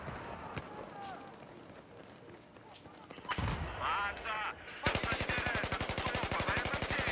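Gunfire in the video game Battlefield 4 on PS4 comes as scattered shots, then a loud, rapid automatic burst that takes over the end, set against game noise and voices.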